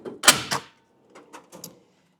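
A toolbox drawer slides open with a couple of quick rattling clacks, followed by lighter metallic clinks and shuffles, close by with no talking.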